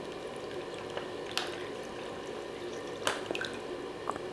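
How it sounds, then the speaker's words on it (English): Water from a cup is poured onto the soil of an indoor cat grass kit, a faint, soft trickle with a few scattered drips and splashes, quiet and close, with no talk. "So I got some water right over here, and I can just pour this all the way down."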